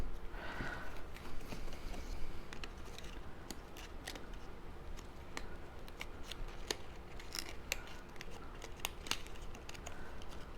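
Scissors snipping through paper card pieces, a series of short crisp cuts at an irregular pace, quiet and close, with no talk over them.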